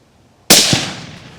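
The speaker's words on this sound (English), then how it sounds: "You completely missed, take the shot again." A single loud gunshot fired at a deer outdoors, a sharp crack with a long fading tail that rings out across open ground.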